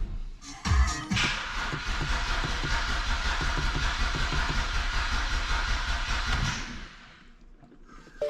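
BMW E92 325i engine cranking over in a garage during a rebuild of a wrecked car, a steady, rapid starter churn held for several seconds that then stops, with no voices.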